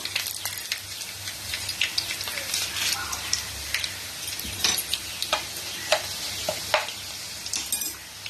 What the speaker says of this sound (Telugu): వెల్లుల్లిపాయలు ఎర్రగా ఎగుతున్నాయి కదండి